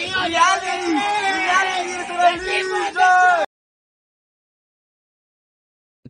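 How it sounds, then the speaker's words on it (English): People on a train scream and yell loudly and continuously at close range in a crowded, chaotic burst of shouting for about three and a half seconds, then everything cuts to silence. "why are they just, like, screaming?"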